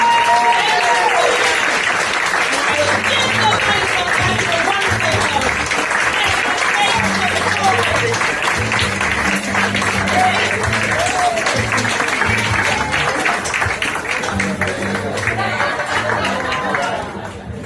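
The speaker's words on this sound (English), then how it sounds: "Clap it up for Stacey." Loud, steady applause from a stand-up comedy show audience cheering comedian Stacey at the end of her set, a continuous wash of clapping mixed with crowd chatter and voices throughout.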